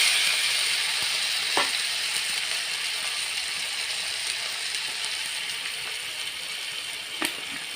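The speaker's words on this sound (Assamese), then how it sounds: "এয়া শাক দিছোঁ আৰু তেলত" Purslane greens fry in hot oil for a fish curry, giving a loud, steady hiss and sizzle that runs the whole way through, close by, with a couple of faint clicks of a utensil.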